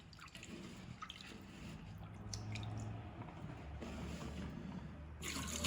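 Rice for makgeolli is swished and rinsed gently by hand in a bowl of water, with soft close sloshing, dripping and wet squishing that continue throughout.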